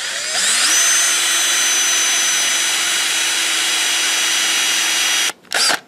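A spot facer cuts into the cast web of an old bulldozer, giving a steady, loud whirring drone for about five seconds before it stops, followed by a brief second burst.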